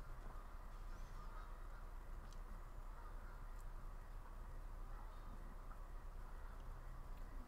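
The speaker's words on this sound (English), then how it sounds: "You can hear the ducks and the geese and everything." Ducks and geese call faintly and far off from a lake beside a winter disc golf course, their sparse cries barely rising above a steady wash of outdoor background noise.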